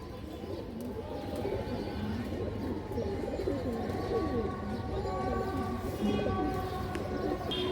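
Several fancy pigeons, male and female, coo continuously in overlapping low rolling calls, a dense and fairly close chorus that persists the whole time over a faint steady hum.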